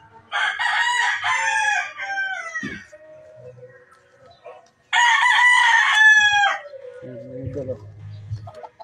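Stag roosters crowing on a rural farm, two loud nearby cock-a-doodle-doo calls separated by a pause, with softer clucking and low bird sounds after the second crow.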